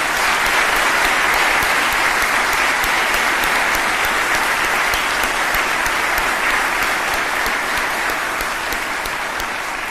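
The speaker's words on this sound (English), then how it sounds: "Please give a round of applause for me." An audience at a military promotion ceremony breaks into a loud, sustained round of applause, dense and even throughout, with no voices rising above the clapping.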